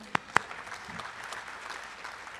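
During a city's state of the city address, two loud, close hand claps ring out first, followed by scattered, softer clapping from the audience in the room.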